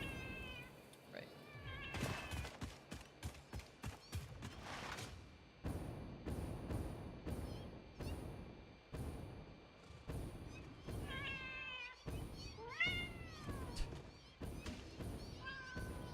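Cats meowing in a mountain setting in the game Satisfactory, repeated close meows and yowls with bursts of thumping and rustling under them.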